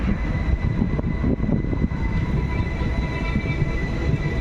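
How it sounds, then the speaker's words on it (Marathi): Passenger train on the Konkan railway near Kamathe village, heard as a steady, loud rumble of rolling wheels and carriages throughout, with no voices. "कामथे गाव आहे या ठिकाणी आपली रेल्वे काही थांबणार नाही"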